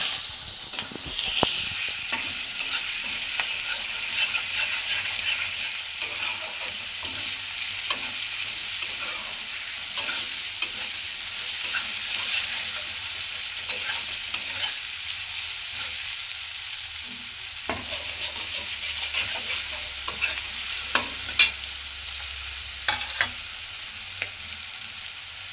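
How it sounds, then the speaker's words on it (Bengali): A masala of tomato, cumin powder, ginger paste, green chili and turmeric frying in a pan, a steady loud sizzle throughout with occasional scraping stirs, close and continuous with no talking. "এবার এটাকে ভাজবো।"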